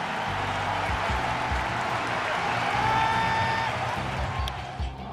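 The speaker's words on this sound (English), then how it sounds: "listen to the ovation for number 51 here in Tokyo" A large Tokyo Dome baseball crowd gives Ichiro, Mariners number 51, a sustained ovation in a game against the Oakland A's, a steady roar of cheering and clapping throughout with a commentator talking over it.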